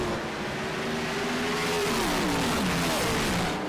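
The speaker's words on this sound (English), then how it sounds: "Wow, that is a train of cars, and you'd think it was Daytona looking at it." A pack of race cars in a sim racing game at Martinsville sweeps past in a tight train, layered engine drones revving and pitching downward as they go by, loud and steady with no talk.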